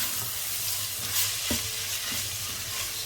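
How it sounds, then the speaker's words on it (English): Spaghetti bolognese sauce stirred in a pan, a steady bubbling sizzle with scraping spoon strokes around the middle, close and fairly loud, with no voices. "Give it a nice mix until it's all well combined"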